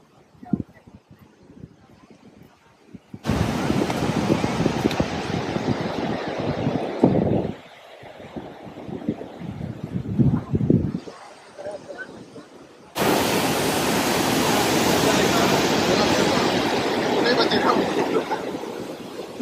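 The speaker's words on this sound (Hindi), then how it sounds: "पानी का फोर्स बहुत ज्यादा है," Strong rushing water at a Swiss waterfall in a sunny, shaded valley, a loud broadband roar that surges in and cuts out in sections, steady and close with brief quieter gaps.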